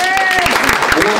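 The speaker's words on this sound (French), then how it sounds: "Est-ce qu'on peut applaudir Jésus?" Congregation applause during a Sunday thanksgiving service, a loud, dense clapping roar with rhythmic hand claps and voices calling out over it.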